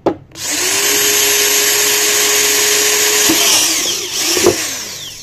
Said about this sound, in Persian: همونجور که میبینیم به سختی سوراخ‌کاری رو انجام میده